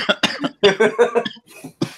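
A quick series of harsh, close coughs comes in uneven bursts, several in a row with short gaps between them.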